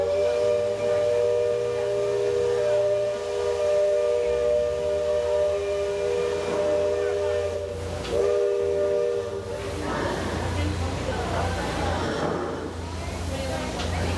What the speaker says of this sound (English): her whistle echoing across the water one final time